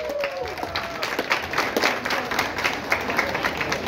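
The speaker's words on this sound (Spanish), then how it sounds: "El aplauso fuerte para cada una de ellas" Crowd applause and clapping at a patron saint town fair competition in Zozocolco, Veracruz, lively uneven claps at moderate distance with a few voices and a whistle-like tone early on.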